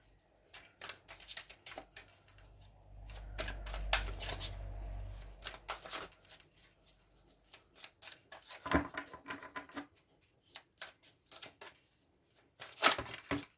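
Tarot cards being shuffled and drawn for a monthly Gemini reading: quick papery riffles and flicks in irregular bursts, close and fairly soft, with a low hum partway through and sharper snaps near the end.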